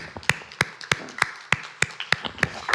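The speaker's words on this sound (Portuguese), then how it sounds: "Eu preciso aplaudir." One person claps alone at an education conference, about a dozen sharp, evenly spaced claps, close and clear, with no voices during the applause.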